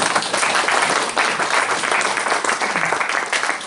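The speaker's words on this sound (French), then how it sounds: "Ouais, vous pouvez applaudir encore." A church congregation applauds loudly and continuously, a dense, even patter of many hands clapping close by without pause.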